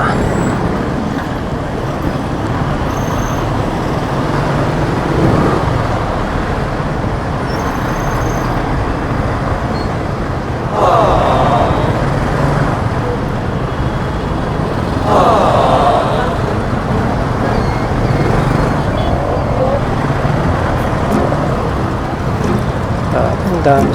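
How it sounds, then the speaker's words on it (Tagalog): Steady, loud road traffic with many vehicles passing nearby, a continuous rumble of cars, buses and trucks with occasional swells as heavier vehicles go by, and voices faintly in the mix. "Ang dami sasakyan."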